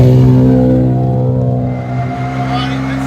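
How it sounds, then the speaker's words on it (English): A stripped-down race car powered by a BMW straight-six, its engine droning loud and close on a track with a steady harmonic roar that eases slightly as it continues. "enjoy the sonorous racket of the BMW Straight Six"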